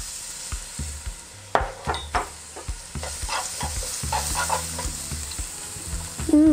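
Garlic sizzles and fries in hot cooking oil while being stirred, a steady close crackle with scraping stirs and a few utensil clinks against the pan.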